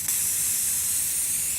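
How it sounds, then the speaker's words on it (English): A short continuous burst of aerosol spray paste is applied to the back of a paper template, a loud, close, steady hiss lasting under two seconds with no voices. "The spray paste makes the back of your template sticky so it does not slip."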